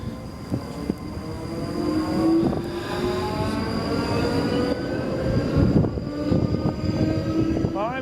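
A South Western Railway train departs toward London Waterloo, rolling past nearby with a steady rumble, clattering wheels and a high wheel squeal. No one speaks.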